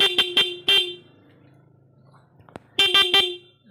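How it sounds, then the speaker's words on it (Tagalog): Car horn being tested after new relay and diode wiring: three sharp honks in quick succession, a pause with faint background noise, then another rapid cluster of loud, close honks. "Malakas pa busina"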